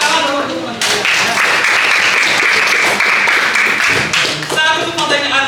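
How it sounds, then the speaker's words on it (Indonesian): A classroom of students bursting into applause for classmates: dense, loud clapping that swells after a brief moment and carries on for several seconds, with some voices mixed in. "Tepuk tangan dulu untuk teman-teman."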